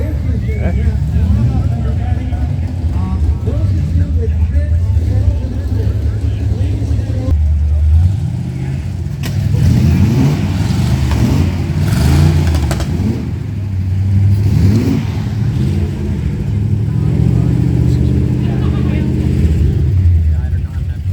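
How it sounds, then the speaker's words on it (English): A Richard Petty stock car engine revs loudly at a muscle car weekend show, its deep rumble rising and falling in repeated bursts amid crowd babble and nearby chatter. "Revving up the stock car. Richard Petty stock car."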